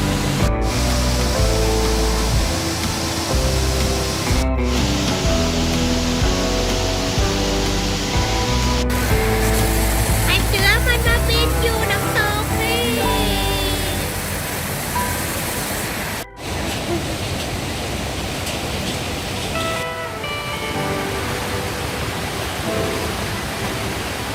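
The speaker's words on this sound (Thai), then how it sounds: "ก็เลยเดินลงไปดูน้ำตกกันใกล้ๆ น้ำเย็นมากๆเลย" A waterfall near a riverside cafe in Chiang Mai roars in a loud, steady rush of falling water and spray that fills the whole clip, with no voices over it.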